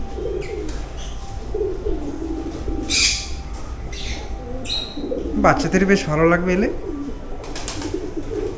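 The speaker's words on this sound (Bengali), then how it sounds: "এখানে কিছু বিদেশি পাখি রয়েছে এই যে ডাকছে কিচিরমিচির করে" Foreign birds in an aviary at Agni Kanya park in Bongaon coo and chirp close by, with a brief burst of squawking calls. A person speaks over the birds at intervals.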